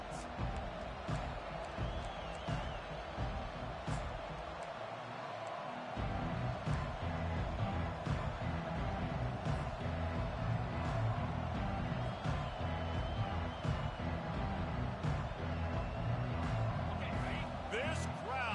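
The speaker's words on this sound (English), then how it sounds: "This crowd, full throat, splitting the eardrums and letting them know it's going to be a long day" Stadium crowd in the College Football 25 video game roars in a steady, loud wash throughout, swelling slightly after the opening seconds, with a commentator talking over it.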